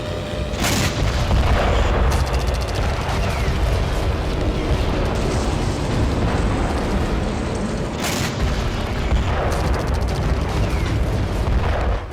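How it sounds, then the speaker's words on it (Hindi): Tank and MLRS rocket attacks on rebel groups outside Hama, Syria produce repeated heavy booms and sharp bursts over a constant rumbling backdrop, with distinct blasts spaced several seconds apart and no talking. "टैंक सहित MLRS से शहर के बाहर विद्रोही गुटों पर हमले किए जा रहे हैं।"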